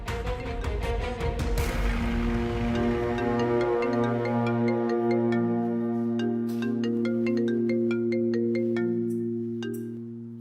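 A phone ringing tone during an outgoing call in a drama scene: a melodic electronic tone loops continuously for about ten seconds at a steady level, then fades slightly at the end, with no voices.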